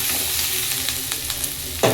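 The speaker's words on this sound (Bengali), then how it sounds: "প্রথমে পটলটা ভেজে নিলাম, তারপরে আলুটা পেঁয়াজটা দিয়ে দিলাম ভাজা হওয়ার জন্য।" Potato, onion and pointed gourd fry in a pan with a steady hiss and crackle, soft stirring taps scattered throughout and a sharper scrape at the end.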